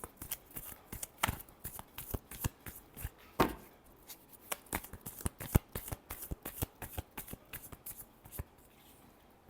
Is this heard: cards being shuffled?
yes